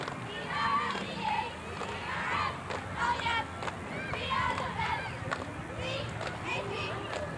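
Oconto High School cheerleaders shout a rhythmic chant during the 1991 Copperfest parade outdoors, with several voices in repeated bursts over crowd noise and street ambience.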